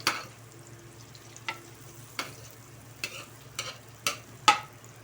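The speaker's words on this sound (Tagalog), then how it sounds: "Hintayin lang natin matunaw yung ating butter." Butter sizzles softly in a hot pan with garlic, a low steady frying hiss broken by several sharp utensil clicks and scrapes against the pan, no talking.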